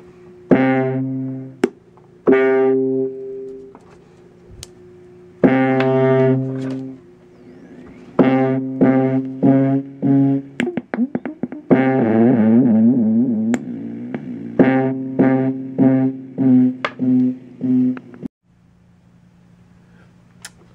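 Circuit-bent Moog effect unit with its toggle switch engaged, producing loud, buzzy distorted synth tones in stuttering bursts and rapid chopped pulses, with a sustained drone and brief warbling passages, alone without talk.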